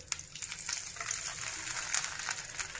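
Milk heating in a pan of melted desi ghee for coconut barfi, giving a soft, steady sizzle and faint bubbling that runs close and continuous with small crackles.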